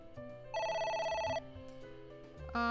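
A telephone rings in the video game The Somnium Files, a loud, bright electronic trill pulsing for about a second, then stopping, with a second ring starting at the very end over a low game music bed.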